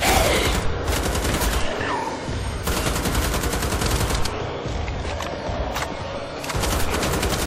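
Gunfire in Wolfenstein: The Old Blood, rapid automatic bursts crackling in dense repeated volleys with short pauses between them, loud and close throughout.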